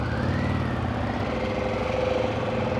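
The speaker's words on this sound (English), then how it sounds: "I love this motor." A 2024 Harley-Davidson Pan America motorcycle engine idles steadily up close, a continuous low rumble with a faint whine riding above it and no talk.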